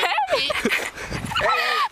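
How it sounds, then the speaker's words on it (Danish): A dog whimpers and yips in short, close, high-pitched bursts, mixed in with people talking over it throughout. "Det der er en hund."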